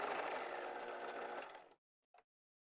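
A sewing machine runs a steady top stitch along a vinyl zipper pouch. It whirs loudly and evenly for about a second and a half, stops abruptly, then gives one short faint burst. No one speaks.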